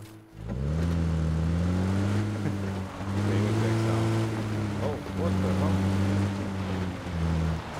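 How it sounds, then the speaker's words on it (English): A car engine in the video game PUBG, heard as a loud, close, sustained tonal hum that shifts pitch as it revs and eases, with brief dips, under a voice talking. "Yep, hear that car moving."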